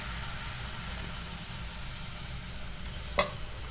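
Dhuska batter of rice and lentils frying in hot oil gives a soft, continuous sizzle at low level, broken near the end by one short sharp clink.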